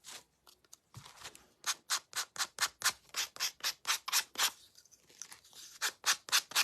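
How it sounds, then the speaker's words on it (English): Rhythmic strokes of a sanding block lightly rubbing over the wood of a birdhouse, a quick run of even back-and-forth passes up close with a brief pause midway. "I'm just going to lightly, really lightly sand it"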